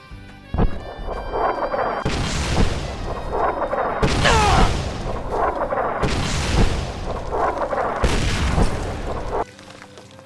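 Missiles exploding in the video game Fallout New Vegas, a run of four heavy booming blasts about two seconds apart, each with a rumbling tail, loud and close over steady game noise.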